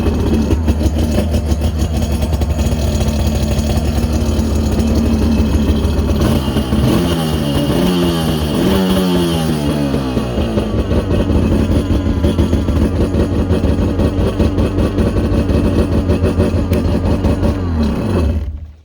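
A Kawasaki SXR 800 jet ski engine cranks, catches and settles into a loud, close, steady idle with a throbbing two-stroke rhythm and brief rises in pitch, running continuously until it cuts off at the end.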